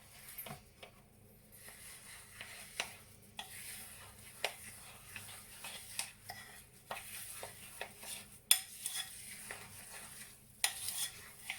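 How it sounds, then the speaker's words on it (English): Spoon stirring 50 grams of sugar into a bird feeder mixture in a bowl, with repeated scraping and clinking strokes in an uneven rhythm, close and moderately quiet, with no talk. "And again, stir it in."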